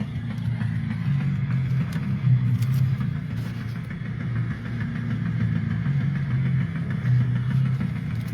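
A race car engine at a street race event drones in a steady, loud low rumble close by, holding a constant idling-like tone throughout with faint clatter on top and no talk.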